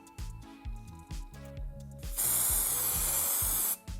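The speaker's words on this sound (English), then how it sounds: "So I spray on that one the fixative spray." Aerosol can of fixative sprayed onto a pastel drawing: a steady loud hiss lasting about a second and a half, preceded by a rhythmic thumping music beat that keeps playing underneath.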